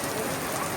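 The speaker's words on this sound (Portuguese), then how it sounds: "Gente, um temporal do cacete!" A heavy rainstorm pours down in a dense, unbroken hiss of falling water, loud and close, across the whole short moment.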